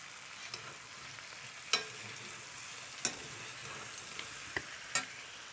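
Spices frying in a pan for a Kali Mata bhog, a soft steady sizzle under a few sharp, spaced spoon taps and scrapes as the mix is stirred.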